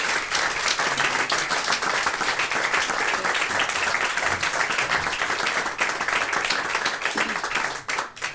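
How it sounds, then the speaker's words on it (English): A concert crowd at The Standard gives a singer a sustained round of applause, dense hand clapping held loud and even for around eight seconds before it breaks off. "please give her another round of applause"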